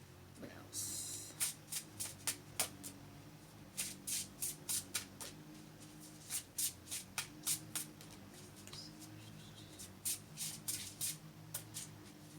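Tarot cards are shuffled in repeated crisp riffling bursts, close and fairly quiet, with a person talking softly between and under the shuffles.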